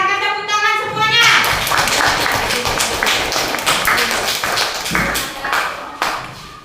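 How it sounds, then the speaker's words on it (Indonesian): A classroom of children claps hands together in a loud, close burst of sharp, uneven claps, preceded by a brief tonal sound and mixed with some voices. "silakan tepuk tangan semuanya"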